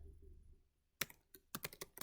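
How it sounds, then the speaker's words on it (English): Keys clatter on a computer keyboard in a quiet room: a lone click, then a short quick burst of several keystrokes after a brief pause, close and fairly soft. "I'm going to type the title"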